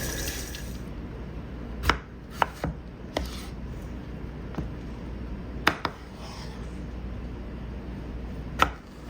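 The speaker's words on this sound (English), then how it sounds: "the majority of our cucumbers are sliced into spears" A knife chops through fresh cucumbers, cutting them into spears for pickles, with sharp, irregularly spaced strikes against a cutting board over a low steady background hiss.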